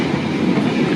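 Passenger train running on rails between Kroya and Yogyakarta with the carriage door left open, a loud steady rumble and rattle of wheels and wagon filling the whole moment without pause.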